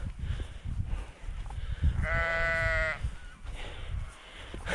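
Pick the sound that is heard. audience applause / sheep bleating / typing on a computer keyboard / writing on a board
sheep bleating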